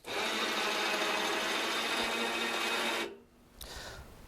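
Micron PRO sawmill head powering upward above the cant, a steady loud motor whine with clattering mechanical buzz that runs for about three seconds, then cuts off sharply, followed by a quieter rattle.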